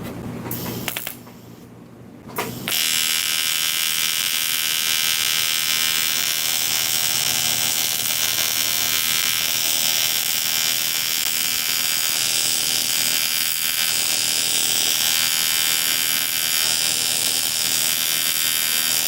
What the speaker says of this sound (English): I'm going to try a filler rod weld with this thing.